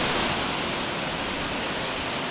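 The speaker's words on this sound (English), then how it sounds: "Temesi Waterfall." Temesi Waterfall in Bali roars as a steady, dense rush of falling water, loud and continuous with no voices over it.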